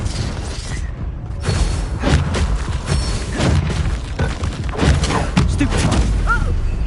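Confringo fire spell blasts go off during combat in Hogwarts Legacy, heavy booming explosions and thuds over a dense, loud mix of crackling effects, with a voice shouting over the action.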